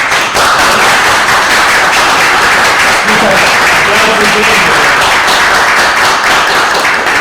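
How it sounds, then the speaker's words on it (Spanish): Loud, sustained applause from a lecture audience, dense clapping filling the whole stretch without pause. "Muchas gracias, un aplauso."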